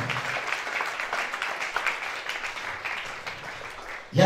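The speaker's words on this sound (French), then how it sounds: "Put your hands together. Acclamez dans le Seigneur." Applause from a congregation at a church prayer service, a dense, steady wash of clapping that fades slightly before a brief burst of louder noise at the very end.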